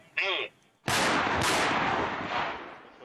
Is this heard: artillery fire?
yes